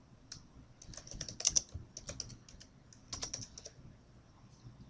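Fingers tap out text on a computer keyboard, a quiet run of irregular clicky keystrokes in short bursts with brief pauses, close and alone with no talking.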